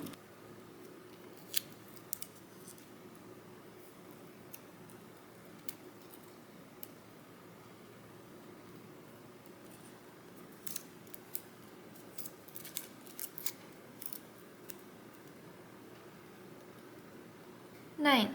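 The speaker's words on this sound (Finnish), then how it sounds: "nyt jos sitä on vähän jäljellä liikaa, niin sen voi tälleen katkaista pois" Scissors snip through tape while making a DIY hobby horse bit, giving a few scattered, brief, sharp cuts over a quiet, steady indoor background.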